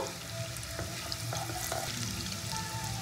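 Chopped ginger sizzles in hot oil with vegetables for dhaba-style chilli chicken, a steady close frying hiss with light stirring scrapes and no talking over it.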